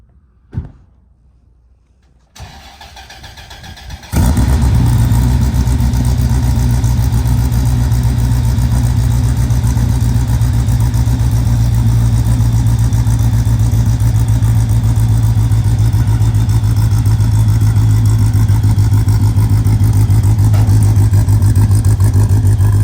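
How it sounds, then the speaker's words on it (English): A Dodge Viper's engine while driving: after a quiet start with a couple of clunks, a loud, steady low engine drone comes in and holds for the rest, close up with no speech. "Let's go drive this Viper."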